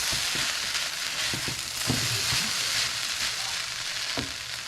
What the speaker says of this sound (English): Add that in there. Stir it around.